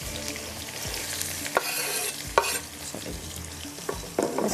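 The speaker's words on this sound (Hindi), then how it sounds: "यहाँ पर चलते हैं, इसके अंदर चली जाएगी ये प्याज" Chopped onion frying and being stirred in a hot pan for rogni naan, a steady close sizzle broken by scraping stirs and clatters of the spoon against the pan.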